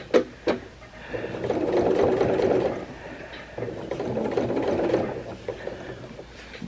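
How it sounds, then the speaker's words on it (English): A sewing machine stitches along the front curve of an upcycled denim jean skirt in two sustained runs, with a brief pause between them and a few sharp mechanical clicks at the start and end. "I'm just sewing this front curve"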